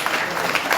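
Audience applause at a Hindi comic poetry gathering, a dense steady wash of clapping hands that stays loud and even for a brief moment, with no speech over it.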